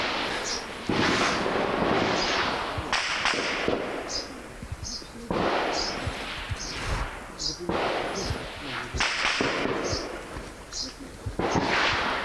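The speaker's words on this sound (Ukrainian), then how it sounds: "Кажуть, що це такий не сильно потужний обстріл." Gunfire and shelling in the Avdiivka industrial zone, a series of sharp, fairly near bangs and cracks at irregular intervals, some with rumbling tails, and people speak over parts of it.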